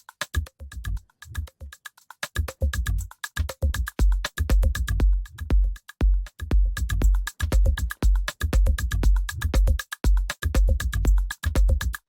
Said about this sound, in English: It creates that pumping effect that you can listen here.